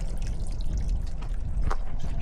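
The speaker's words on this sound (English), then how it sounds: "It seems that my water purifier broke." Water from a broken water purifier pours and trickles steadily, with a few faint drips standing out over the continuous splashing flow.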